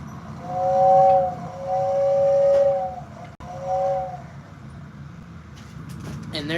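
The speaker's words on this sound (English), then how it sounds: "That's Pennsylvania Railroad. It's probably one of my most underrated locomotives" A Pennsylvania Railroad locomotive in a game, its whistle giving two sustained, chord-like blasts over a low rumbling engine, followed by quieter rolling noise and clanks near the end.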